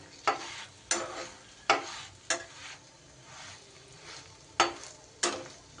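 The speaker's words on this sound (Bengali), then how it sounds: "তেল দিয়ে দিয়ে এইভাবে ভেজে নেব" Garlic paratha frying in oil in a pan, a steady soft sizzle broken by repeated scraping strokes of a spatula at irregular intervals, close and alone with no voices.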